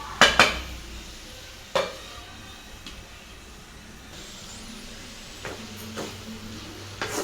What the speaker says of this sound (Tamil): அப்பப்போ கிளறி விட்டுட்டே இருக்கணும்